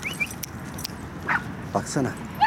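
A dog gives a few short, high whimpers and yips, interspersed with a person talking nearby.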